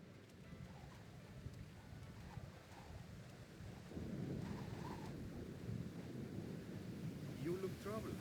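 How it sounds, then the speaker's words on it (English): Thunderstorm in the video game Splinter Cell: Chaos Theory, heard as steady rain and a low rumble of thunder that swells louder partway through, with faint voices beneath. "Thunderstorms make me nervous."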